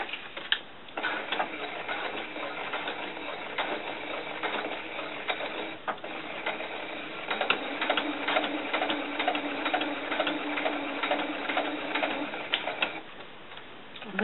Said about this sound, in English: so I'm going to sew this together right now